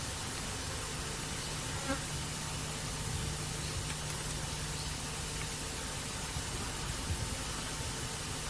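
Honey bees hum and buzz around an open hive during queen rearing, a dense, steady drone of many insects close by, with no voices.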